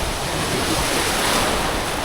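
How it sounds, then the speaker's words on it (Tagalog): Ocean waves surge and wash steadily close by, forming a dense, continuous roar of surf mixed with buffeting wind on the microphone. No voices are heard. "Ayan ang alon na yan."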